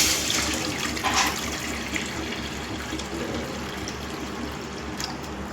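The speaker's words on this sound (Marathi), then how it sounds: "पाणी टाकूया आता" Water poured into a hot kadhai for a veg kaju fry masala, a loud, continuous rushing splash and gurgle that holds steady throughout, close up with no talk.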